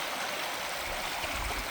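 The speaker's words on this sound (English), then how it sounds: "I found another spot where you can come down next to the river. Can you hear it?" A river in a Wisconsin nature area rushes steadily, a constant broad wash of flowing water heard up close with no voices.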